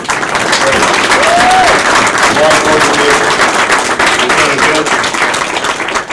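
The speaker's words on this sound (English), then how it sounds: "let's give a nice round of applause" Loud, sustained audience applause at a hall of fame induction ceremony, dense crackling claps filling the room evenly throughout, with a few faint voices mixed in.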